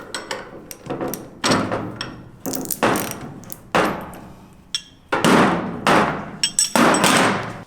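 A ratchet wrench tightens a bolt on a Jeep JL Wrangler steering tie rod, giving close, loud bursts of rapid clicking separated by short pauses, with no talking.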